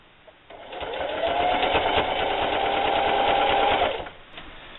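A sewing machine stitches binding onto a patchwork quilt, its steady whirring hum running continuously for about three seconds before stopping.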